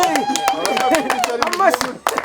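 Scattered hand claps from a small group break through steady overlapping talk on the set of a Rwandan comedy sketch, quick and uneven rather than a full ovation.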